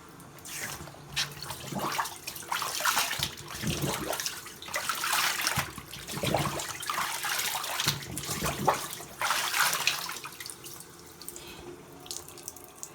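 Sneakers being rinsed by hand under a running tap into a sink, a steady close gush of water broken by bursts of splashing and sloshing as the shoes are turned and squeezed, with no talking.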